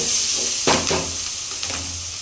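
Curry leaves sautéing in hot oil in a pan for a Tamil-style fish curry, a steady close sizzle with a few brief bursts of crackle and stirring, no talking.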